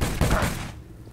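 Burst of gunfire in a Source Mod video game, a dense loud volley of shots in the first half that cuts off and leaves a quieter tail.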